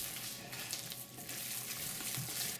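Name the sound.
stirring pork and chive dumpling filling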